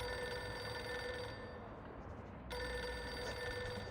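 A desk telephone rings in the video game Reverse: 1999, a bright electronic trill that sounds, pauses briefly, then starts again over a low room hum, fairly quiet.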